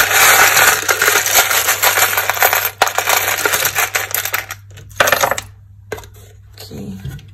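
A full box of small metal charms shaken hard, giving a dense, loud jingling rattle that runs steadily, then breaks into shorter bursts with brief pauses near the end. No one speaks.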